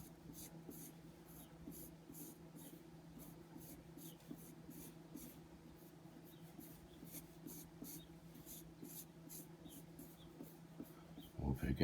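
A pencil sketches circles on paper while drawing a bison, giving soft, evenly repeated scratching strokes close by over a steady low electrical hum.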